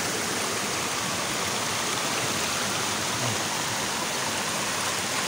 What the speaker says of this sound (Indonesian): Ini lokasi air terjun jatuh ke bawah.